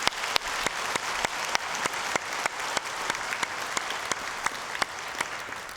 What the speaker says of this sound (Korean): 우리 한번 박수로 격려할까요?